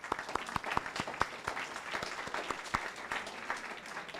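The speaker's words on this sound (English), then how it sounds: "would you all stand for a little round of applause?" A seated audience at a candidate forum applauds elected officials with a steady round of scattered hand claps, moderately distant, lasting throughout without pause.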